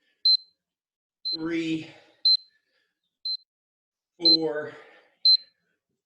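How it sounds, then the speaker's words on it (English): During swim practice, a tempo trainer gives short, high electronic beeps, six in all, about one second apart. A voice counts aloud between some of them. "Turning up the tempo, only 3 beeps."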